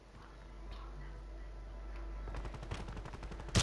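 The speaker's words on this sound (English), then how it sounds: "prison is shooting us like crazy" Enemies fire guns from the prison area in a video game, a rapid burst of shots in the last second over quiet background ambience.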